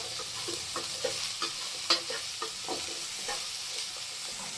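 Ridge gourd frying with onion, garlic and green chillies over medium flame, a steady hissing sizzle with repeated close scraping stirs of a spatula in the pan, with no talk.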